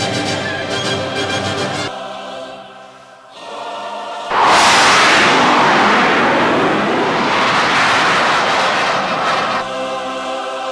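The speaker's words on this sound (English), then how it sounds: "In a jet." A jet aircraft roars in abruptly and loudly over a musical backdrop, holding as a broad, sustained rushing blast that eases slightly near the end.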